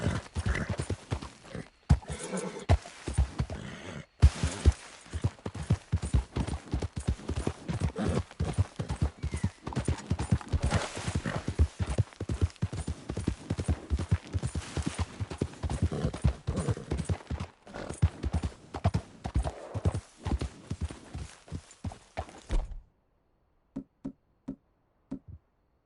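Horse hooves galloping in Red Dead Redemption 2, a steady rapid clip-clop that runs close and loud for most of the stretch before dropping away to a few scattered, separated hoof knocks at the end.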